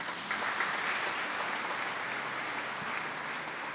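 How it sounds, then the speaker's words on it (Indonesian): A packed church congregation at a Maundy Thursday evening service claps together, a dense, steady wash of applause that holds evenly from start to finish with no voices over it. "Tepuk tangan untuk kita semua."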